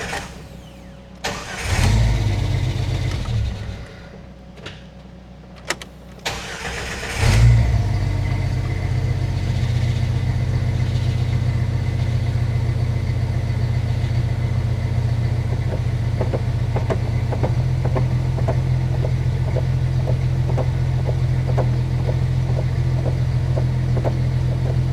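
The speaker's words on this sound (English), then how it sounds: "We'll try to start it in gear with the clutch in." Jeep XJ with a newly fitted clutch, started in gear: a short cranking burst stops, then a second crank catches and the engine settles into a loud, steady, close idle lasting many seconds.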